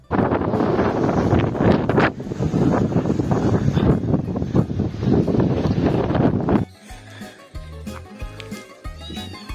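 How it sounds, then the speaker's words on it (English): Loud, roaring high wind on Mykonos in October buffets the microphone for several seconds, then drops away abruptly to quieter background sounds with faint music-like tones. "Mykonos was known for its high winds"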